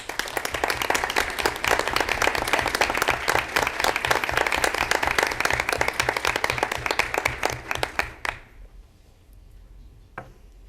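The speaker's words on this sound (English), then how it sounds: "give her a round of applause" Steady, dense applause from an audience at a school board meeting, loud and sustained for about eight seconds before cutting off abruptly, followed by near silence and one faint late clap.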